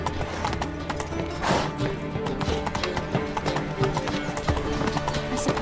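Roach the horse gallops in The Witcher 3, steady rapid hoofbeats clip-clopping over a dense game score, with a brief whinny and a voice calling out under the music.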